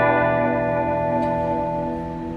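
Electric guitar played through the reverb effect of a Marshall 100 DFX amplifier, sustained chords ringing with a lush wash of reverb, loud and steady, gradually decaying, no talking.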